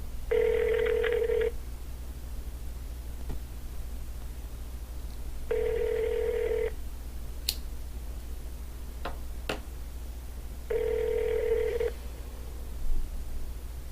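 A telephone rings unanswered on a customer service line: three evenly spaced ring bursts, each about a second long, over a steady low hum, with faint clicks between rings.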